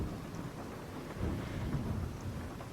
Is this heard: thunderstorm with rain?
yes